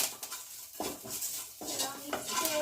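Curry leaves, salt and chili being mixed in a pan for a simple evening snack: a spoon scrapes and clanks against the metal pan in close, irregular strokes, with a little sizzle and no talk.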